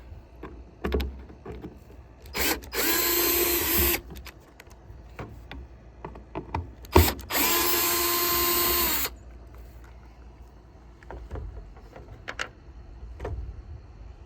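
A power drill backs out the screws of a license plate light on a 1994-2001 Dodge Ram, whirring in two steady bursts of about one and two seconds, up close, with light clicks and handling knocks around them.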